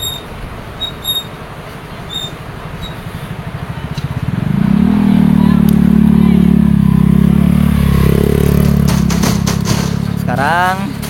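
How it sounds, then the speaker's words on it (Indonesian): A motorcycle engine approaches on a village road through rice fields, rising from about four seconds into a loud, steady rumble that holds close by, with faint clatter and no talk over it. "Di depan ada motor, cepet-cepet aja ya menepi."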